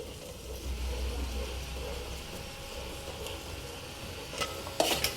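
Pulao mixture with rice being stirred in a pan, a steady soft scraping and faint sizzle throughout, with a few sharper clinks of the spoon against the pan near the end.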